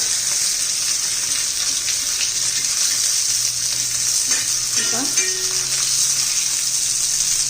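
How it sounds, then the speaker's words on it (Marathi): Tender cluster beans roasting in oil in a pan give a steady, even sizzle throughout, with a brief scrape of stirring near the middle and no voices. "पालटी करत रहा है चांगली तेलामध्ये आपण भाजून घेऊया"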